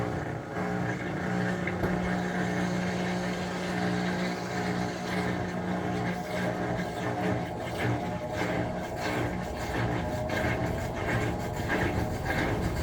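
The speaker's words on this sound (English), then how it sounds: "Let's see if the pump chugs" Amana NTW4519JW2 washing machine running a speed wash, its drain pump droning with a steady low hum and rumble, fairly loud and continuous with some rattling throughout.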